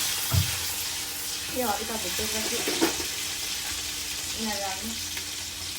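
Ingredients for village-style hemp chowmein crackle and sizzle in a hot pan, making a continuous close frying hiss with small pops, while a voice speaks briefly over it now and then.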